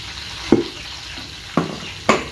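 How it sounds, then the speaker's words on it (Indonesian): Tofu frying in a pan hisses as a steady low sizzle, broken by three sharp stirring scrapes spaced about a second apart. "Tinggal goreng tahunya."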